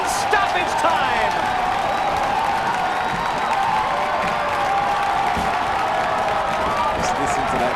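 A stadium crowd roars at a Hartford Athletic versus New York Red Bulls II soccer match after an equalizing goal in stoppage time, a dense, sustained wall of cheering and clapping with shouts rising through it.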